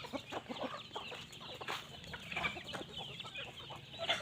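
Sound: chickens clucking

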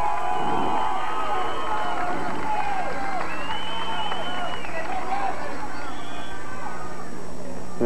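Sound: Hilton crowd cheering at a high school volleyball match

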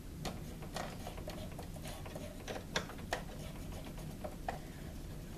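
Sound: sewing machine mechanism turned by hand

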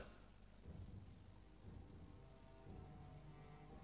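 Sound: thunderstorm with rain sound effect

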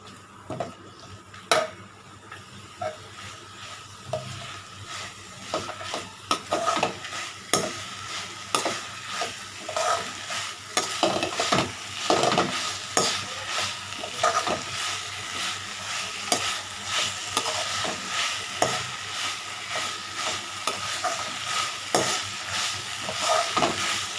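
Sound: mint being sautéed and stirred in a pan

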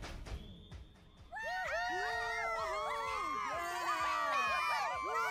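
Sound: crowd cheering Pip in a My Little Pony episode

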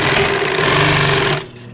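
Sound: sewing machine stitching a seam with a presser foot

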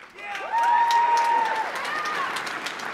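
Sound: applause for commencement award recipients

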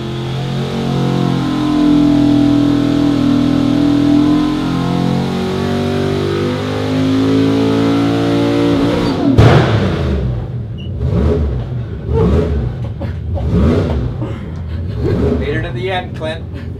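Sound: 383 cu.in. LS engine revving on dyno

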